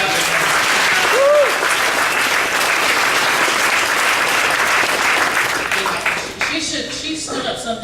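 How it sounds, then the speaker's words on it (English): A large audience gives a sustained round of applause at a fireside chat, dense steady clapping that fades toward the end, with a brief spoken word over it. "we really should give Lori an extra round of applause"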